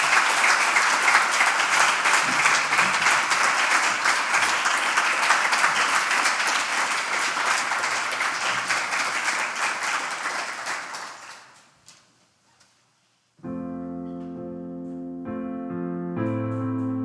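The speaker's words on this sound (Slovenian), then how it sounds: "To pa aplavz, prosim." At a charity concert at a music and arts festival, a dense crowd applauds steadily for about eleven seconds, then fades to near silence before sustained piano chords begin.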